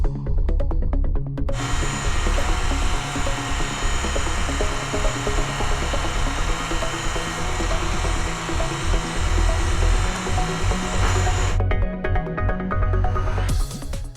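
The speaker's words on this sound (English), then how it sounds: "lower the hoist enough to keep the container long sills and hoist rails in line and even with each" A Galbreath cable hoist lowering a container runs with a loud, steady mechanical whine and motor drone. It holds continuously for most of the stretch and sounds close, with a brief quieter gap at the start and end.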